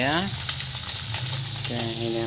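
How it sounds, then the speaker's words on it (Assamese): Steady, loud sizzling of fish frying in hot oil fills the clip, with a faint hum from the kitchen underneath. "এইফালে বাই এতিয়া মাছ ভাজি আছে।"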